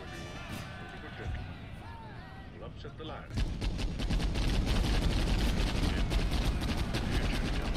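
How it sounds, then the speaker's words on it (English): Volley fire from British Empire troops in the Khartum and Zulu mod erupts loud and continuous after a stretch of voices and ambient battle noise, crackling on without pause. "Let's shoot at these guys here."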